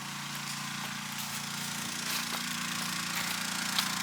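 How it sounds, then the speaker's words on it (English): A generator at a campground hums steadily at a constant pitch throughout, with faint ticks and rustles over its drone. "Got a generator running. That's really the only noise you hear right now."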